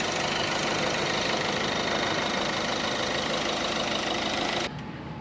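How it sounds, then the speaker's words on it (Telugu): A 2016 Ford EcoSport Titanium car engine idling after being started, a steady, loud, even rumble that continues without pause and drops off abruptly near the end. "మళ్ళీ ఆన్ చేస్తాను చూడండి. సింగిల్ సెల్ఫ్లో అనేది బండి స్టార్ట్ అవుతుంది."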